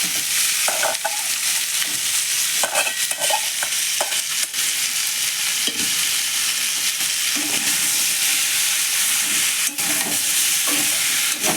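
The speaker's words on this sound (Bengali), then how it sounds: "ভালো করে এটাকে নেড়ে নেড়ে আরেকবার ভেজে নেব" Mashed jackfruit seeds and fish head are being stirred and fried in a pan in a village kitchen, with a steady sizzle and repeated scraping stirs throughout.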